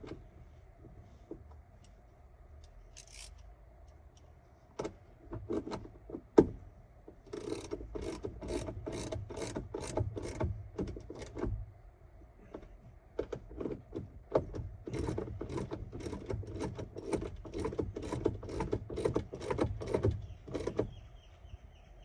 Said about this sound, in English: Now we get to tighten up our screws.